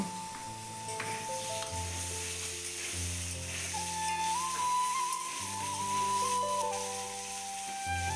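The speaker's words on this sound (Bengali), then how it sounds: "তারপরে কেটে রাখা আলু বেগুনগুলো আমি ভালো করে ভেজে নেব।" Cut potatoes and eggplant frying in hot oil tempered with dried chillies and black cumin, a steady close sizzle throughout with occasional stirring, no talking.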